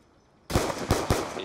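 Gunfire from the video game Black Ops 2: three loud, sharp bursts land in quick succession after a short quiet stretch, each ringing out briefly before the next.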